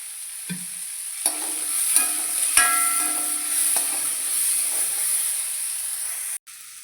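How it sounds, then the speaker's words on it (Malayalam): Small onions sautéing in a pan with salt give a steady, close sizzling hiss, broken by a few sharp stirring scrapes and clinks; no one speaks, and the sizzle cuts off abruptly near the end. "ഉള്ളിയൊക്കെ പെട്ടെന്ന് വഴന്നു വരാനും കറിക്ക് ആവശ്യമായ ഉപ്പ് ഇട്ട് കൊടുക്കാം"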